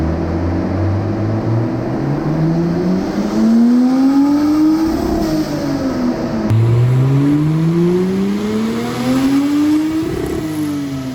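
A Mercedes 3.2L M104 turbocharged engine on a dyno revs up in two long rising pulls toward 6,500 RPM, loud and close with a whining turbo, dropping back between runs.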